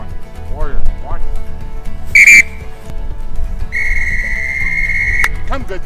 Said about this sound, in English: There's different whistle signals for what I want him to do.